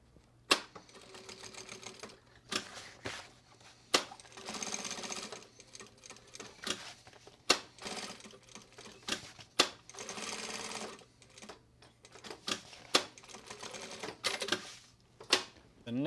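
A sewing machine stitching a label onto a shopper bag, quiet bursts of rapid mechanical stitching rattle separated by sharp clicks and pauses, close up, with a low steady hum beneath.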